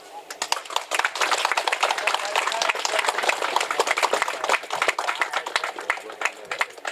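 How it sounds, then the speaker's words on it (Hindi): An audience at an Ashok Vijayadashami and Mahishasur commemoration event in Patna claps steadily for about seven seconds, producing dense, continuous hand claps that are loud and close. "ज्यादा जोरदार तालियां हो जाए"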